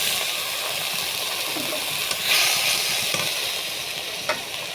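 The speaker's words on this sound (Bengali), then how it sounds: "জিরে আর শুকনো লঙ্কা ফোড়ন দিয়ে দেবো পেঁয়াজ কুচি দিয়ে দেবো এবার কুচো চিংড়িটা দিয়ে দেবো" Small shrimp hit hot oil with chopped onion, cumin seeds and dried red chilli, giving a steady, close, loud sizzle and hiss that runs the whole time with faint stirring clicks and no talk.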